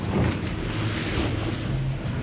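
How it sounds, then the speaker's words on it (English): Ocean swell and waves wash around a Coast Guard boat at sea, a broad, continuous rushing roar mixed with wind buffeting the microphone. "Look at the size of the waves out here."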